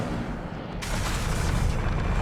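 An Incendio fire spell is cast in Hogwarts Legacy: a sudden roaring burst of flame erupts and keeps blazing loudly as a dense, broad whoosh over a rumbling game background.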